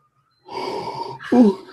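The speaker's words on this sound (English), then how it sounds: "I don't know why I keep yawning today." A single human yawn during a Star Wars podcast: a long breathy exhale that closes in a louder voiced groan, with no other sound around it.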